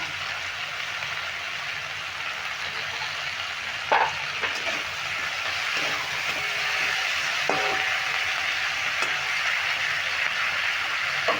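Chopped tomato sizzles in a pan with kundri, a steady close frying hiss with a few sharp crackles and stirring clicks throughout.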